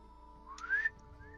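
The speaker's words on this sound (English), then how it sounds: "Whistle." A short whistle sound effect during a tabletop horror game session, a single rising tone that swells and fades within a second over a faint low background hum, with no voices.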